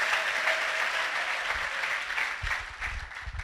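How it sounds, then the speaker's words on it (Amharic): A church congregation claps through a sermon, a bright, sustained rattle of many hands with a few louder bursts and thumps toward the end, and no clear shouts standing out. "ጩና አጨብጭቡና አሜን በሉ ሃሌሉያ።"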